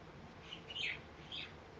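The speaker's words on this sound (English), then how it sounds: "you hear the birds out there?" Small birds chirp faintly somewhere outdoors, two short high tweets over a steady low hiss, distant and quiet.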